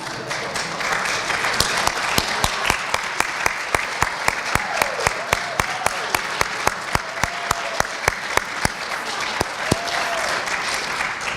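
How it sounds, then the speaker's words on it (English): Audience applause at a recognition tea for an opportunity program, a steady wash of many hands clapping with occasional sharp individual claps standing out, sustained and fairly loud throughout, faint murmurs underneath. "I'd like to give you a round of applause"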